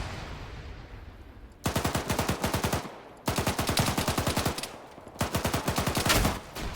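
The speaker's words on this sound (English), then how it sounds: "there go GMG shots" Three long bursts of rapid, evenly spaced grenade machine gun (GMG) fire in Arma 3, each thumping shot loud and close, separated by short gaps filled with a background rumble, and no talking.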